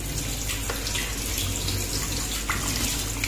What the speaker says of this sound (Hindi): तो अब इस गोश्त को धो लेते हैं।